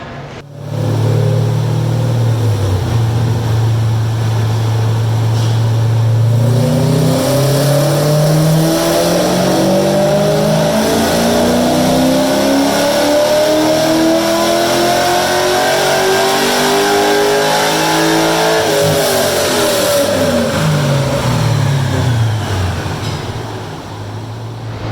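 A Subaru BRZ with an LS3 V8 swap revs hard on a chassis dyno, its loud engine note climbing steadily through a long pull, then falling off as it winds down near the end.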